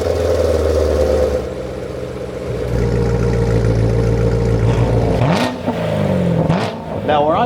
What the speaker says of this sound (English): here's what the car sounded like before